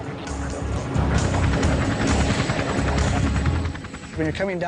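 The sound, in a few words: helicopter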